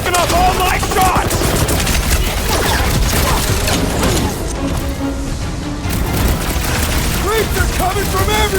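Dense rapid gunfire and mechanical weapon clatter from a chaotic battle in the Guardians of the Galaxy video game, loud and continuous with booms, under shouted character voices.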